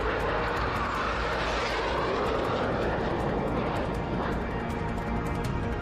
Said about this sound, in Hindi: इस अभ्यास में Tu-160 के साथ MiG-31 भी शामिल हुआ।